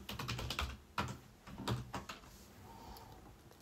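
Fingers tap out a quick burst of keystrokes on a computer keyboard while entering details into an online booking form, a cluster of clicks, then a short pause and a few more, quiet and close.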